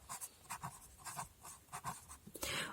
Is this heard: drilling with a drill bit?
no